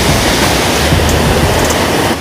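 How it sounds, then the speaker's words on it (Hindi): Loud, steady rushing of water pouring down a mountain waterfall close by in a hilly Uttarakhand village, a dense continuous roar with no break, no voices over it. "पानी की कितनी ज़्यादा आवाज़ आ रही है भाई"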